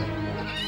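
A horse whinnies loudly and close in a dense, sustained burst, with a dramatic music bed underneath.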